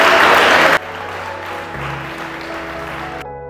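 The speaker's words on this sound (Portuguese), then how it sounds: "dá uma poderosa salva de palmas para o Deus que nos chamou" A Portuguese-speaking church congregation bursts into loud, dense clapping for under a second before it cuts off abruptly, leaving sustained organ-like tones and a low drone that then stop.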